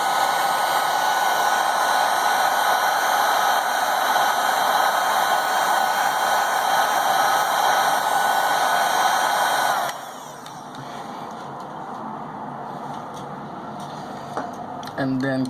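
A hair dryer blows steadily on an LG V20 phone's camera lens with a loud, airy whine for about ten seconds, then cuts off. Faint clicks and handling sounds follow.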